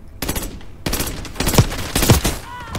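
Rapid automatic gunfire from Call of Duty Black Ops 6, loud bursts of shots with a pause before a second stretch of continuous firing and punchy impacts.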